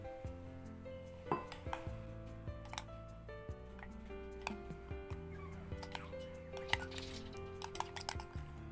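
Pork belly pieces tossed with cornstarch in a bowl, heard as irregular close clinks and taps of a utensil against the bowl, with light rustling between.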